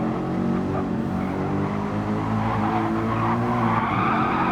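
A race car in a sim racing league race spins its wheels on a corner exit, tires squealing and skidding continuously over a droning engine, with no voices.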